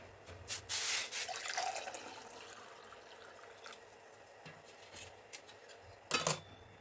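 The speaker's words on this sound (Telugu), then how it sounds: "ఒక గ్లాసులో అయితే పోసుకుంటున్నాను" Warm water poured into a glass at home in the morning, a quiet intermittent trickle and splash with a few light clinks and louder bursts near the start and end, no talking.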